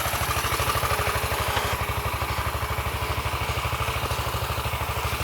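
An old tractor's engine chugs with a steady, rapid low thump, running continuously at moderate volume while hauling firewood outdoors, with no voices.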